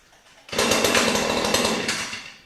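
A Stihl FS94 petrol string trimmer engine fires up and revs in a loud, rattling two-stroke buzz, close by, for about two seconds before easing off.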